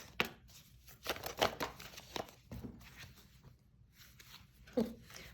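A deck of cards is shuffled, giving several quick riffling and snapping bursts at close range, spaced irregularly with quieter gaps between them.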